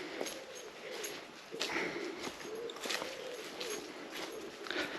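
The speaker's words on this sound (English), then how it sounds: "Then you can hear the pigeons cooing." Pigeons cooing near castle walls among trees, soft repeated low calls heard at a moderate distance over steady outdoor ambience, with no voices.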